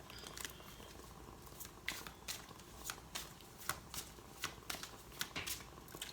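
Tarot cards being shuffled close by, quiet repeated riffling snaps and soft card slaps in an uneven rhythm.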